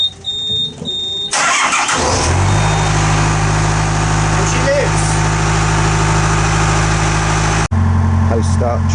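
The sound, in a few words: narrowboat engine running after start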